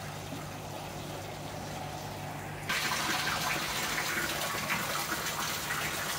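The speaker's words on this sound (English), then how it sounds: "Pond's being filled up with water." Water gushes steadily into a koi pond being filled, a continuous close rushing flow that suddenly grows louder and brighter midway and then holds at that level, with no talking.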